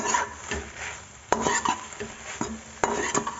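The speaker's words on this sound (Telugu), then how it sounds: "ఇప్పుడు ఇందాక వేసుకున్న డ్రై గోబీని ఇందులో వేసుకోవాలి ఫ్రై ఫ్లేమ్ మీద పెట్టుకోవాలి" Dry fried cauliflower pieces tossed in a pan for gobi manchurian, light sizzling under repeated sharp scrapes and clanks of a spoon against the pan, close and moderately loud.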